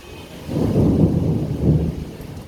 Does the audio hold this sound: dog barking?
no